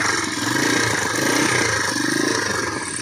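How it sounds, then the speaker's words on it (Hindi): A Road Prince 100cc loader rickshaw engine runs at a steady idle nearby, a continuous rough mechanical drone with no clear revving. "ये इंजन इस वक्त ये स्टार्ट है जी।"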